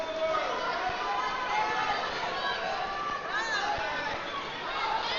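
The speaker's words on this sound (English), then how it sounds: "Western Dubuque crowd's not happy with that call." A crowd at a high school wrestling match hums with chatter and restless murmuring in a gym, a dense steady babble mixed with occasional thumps, reacting to a referee's call.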